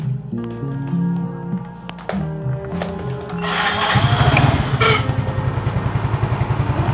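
A Yamaha Soul GT 115 scooter with a worn cylinder block idles, first under a mixed low hum, then a louder, rhythmic chugging pulse that settles into a steady close-up putter.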